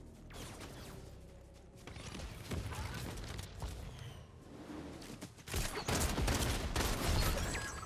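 Shotgun fire in Fortnite, several sharp loud blasts mixed with clattering mechanical handling and busy game noise, a heavy burst near the end.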